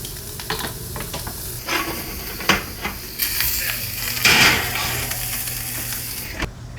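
A steak, roughly 6 to 7 ounces, is flipped in a hot pan with garlic laid on top, giving a steady hiss and sizzle punctuated by clanks and scrapes of the pan and utensils.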